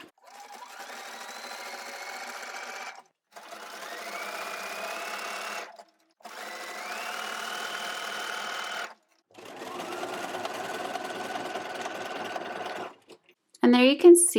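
A sewing machine runs a triple zigzag stitch over elastic on a skirt edge, in four steady bursts of three seconds or so with short pauses between them, close and clear, followed by a brief clatter at the end.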